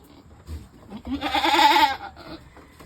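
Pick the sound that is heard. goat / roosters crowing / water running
goat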